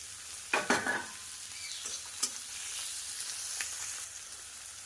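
Chopped onion frying in oil with whole garam masala, dried red chilli and bay leaf, giving a steady, fairly quiet sizzle broken by a few scraping stirs and utensil clinks.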